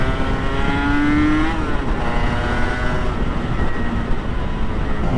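Kawasaki KR1S two-stroke motorcycle accelerating, a loud continuous buzzing engine note that climbs in pitch through the gears, with steady wind rush around it.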